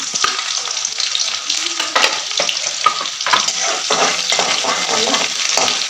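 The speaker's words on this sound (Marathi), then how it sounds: "जिरे मोहरी तडकल्याच्या नंतर त्याच्यात टाकणारे एक कांदा कट करून घेतलेला आहे मी तो कांदा टाकणार आहे" Chopped onion dropped into hot oil with tempered mustard seeds and cumin, sizzling and crackling steadily while being stirred, close and continuous with scattered sharper pops.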